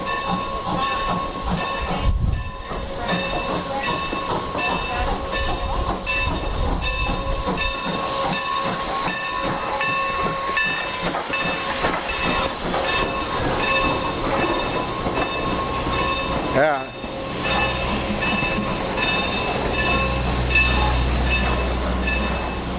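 Railway cars on the Strasburg Rail Road roll past with a continuous rumble, hissing and high metallic squeals, a single voice briefly speaking near the end.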